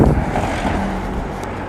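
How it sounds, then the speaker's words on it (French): A single car drives past on a quiet road during lockdown, a loud close rumble at first that slowly eases off as it moves away, with no talking over it. "Ah, il y a une voiture qui est passée"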